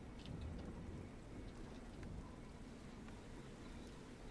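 A driving rainstorm with thunder on a ship's deck in the pirate video game Black Flag, a steady, faint wash of rain with a low rumbling undertone and no talk.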